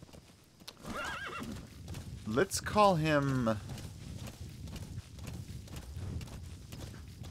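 Horse in a video game clip-clopping on hooves with a clear neigh in the middle, the steady hoofbeats continuing close by under someone talking.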